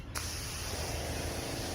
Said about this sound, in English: I can spray over top of this roof and hit the back of the roof with water.